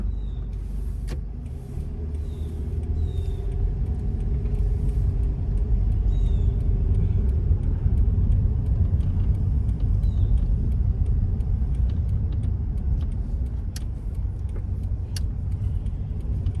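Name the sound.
car driving forward during a driving test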